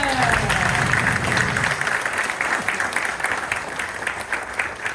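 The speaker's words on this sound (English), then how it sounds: "Another round of applause for our beautiful dancer." Loud applause from a crowd fills the room, steady clapping that gradually thins and softens toward the end.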